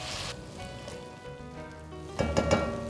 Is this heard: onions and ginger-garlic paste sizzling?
yes